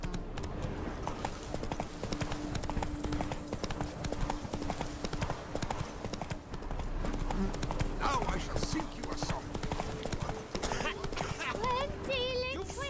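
Horse hooves galloping in The Witcher 3, a steady, continuous clip-clop running through the whole stretch, with spoken voices over it and a whinny-like sound near the end.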